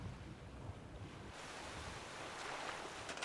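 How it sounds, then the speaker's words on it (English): A character falls into water in a medieval castle-building game, giving a steady wash of splashing, surf-like noise that grows slightly brighter midway and continues without talk. "Oh, I fell in the water."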